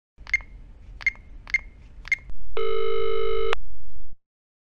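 Telephone call being placed: four short, evenly spaced bleeps of a number being dialed, then a loud, steady ringing tone lasting about a second and a half before it cuts off abruptly.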